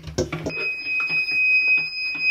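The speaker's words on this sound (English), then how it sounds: "When it plugs in, there's an error on this one specifically. That's why there's a beep." An Inkbird thermostat gives a steady electronic error beep right after it is plugged in, a single sustained high tone that holds clearly for about two seconds after a short clatter.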